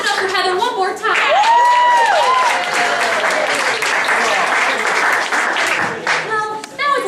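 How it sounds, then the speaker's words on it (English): A live show audience claps and cheers for a prize winner, loud dense applause with whoops and rising shouts standing out early, sustained for about seven seconds before tapering. "Let's clap it up for Heather one more time."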